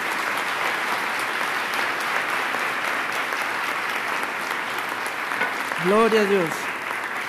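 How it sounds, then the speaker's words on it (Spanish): A congregation applauds at a Sunday church service, a steady, sustained wash of clapping filling the room, with one voice briefly calling out over it near the end. "Vamos a darle un gran aplauso a nuestro Dios."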